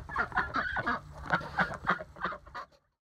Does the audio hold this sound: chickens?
yes